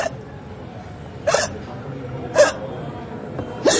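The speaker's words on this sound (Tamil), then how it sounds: "சாமி விக்கல் நின்றுச்சா?" Three sharp, short hiccups at spaced intervals, each a sudden gulping burst, heard alone against a quiet indoor background in a Tamil film meal scene.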